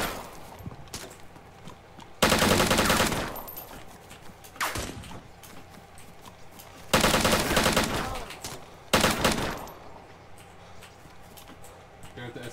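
Bursts of gunfire in an online shooter game near a shore and swamp, several loud broadband volleys spaced a few seconds apart over a quieter game background with faint hoof-like clatter.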